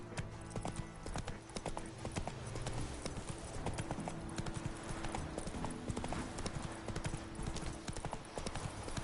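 Roach's hooves pound in a fast, steady galloping rhythm in Witcher 3, the clip-clop running the whole time at close range, with a game music bed and a faint voice underneath.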